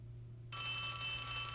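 A telephone rings in Poppy Playtime Chapter 3, a horror video game. The bright, electronic ring starts abruptly partway through and holds steady against a low background hum.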